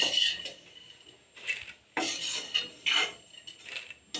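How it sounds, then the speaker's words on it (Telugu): A spoon scrapes and taps as fried semiya is moved into another bowl for semiya kesari, a run of rasping strokes and light metallic knocks, close and fairly clear with brief pauses between. "ఇప్పుడు సేమియాని మొత్తం వేరొక బౌల్లోకి ట్రాన్స్ఫర్ చేసుకోవాలి"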